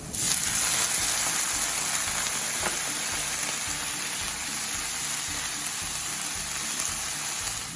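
Red wine poured into a hot pan sizzles loudly and steadily, a dense close hiss that holds without pause from start to finish, no voices over it.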